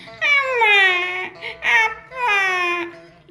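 A child cries loudly and close as a sound effect in a Tamil devotional story, giving two long wailing sobs with a short whimpering catch between them.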